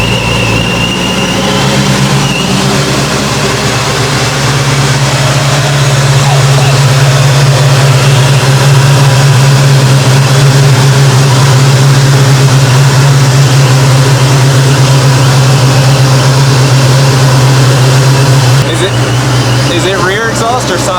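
A Chevrolet C10 pickup truck engine idles loudly and steadily up close, a deep continuous rumble holding for the whole stretch with a brief rev near the end.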